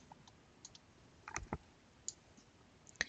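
A few quiet, crisp computer mouse clicks, one soft pair near the middle and a sharper single click near the end, in a silent room.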